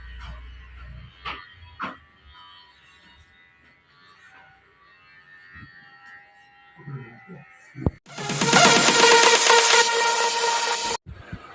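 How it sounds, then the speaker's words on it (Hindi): A dog getting a haircut gives a few short yips and thumps amid faint background sounds. Then a loud steady whirring starts abruptly, runs for about three seconds and cuts off. "कटिंग हो रही है, बुन्नू का पूरा डॉगी बन जाएगा।"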